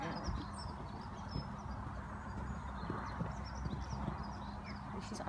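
Horse hooves thud during an 85cm show jumping qualifier, faint and distant amid arena ambience and a few calls from people nearby.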